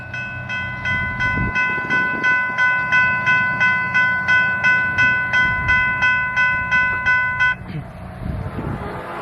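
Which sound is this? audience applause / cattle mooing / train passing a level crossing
train passing a level crossing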